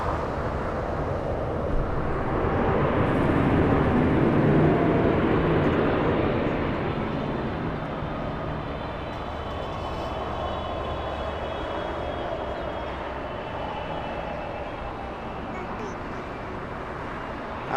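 A jet airliner at Los Angeles International Airport rolls off the runway onto the taxiway, giving a broad engine roar that swells and then slowly fades into a lower, steady rumble heard from a distance.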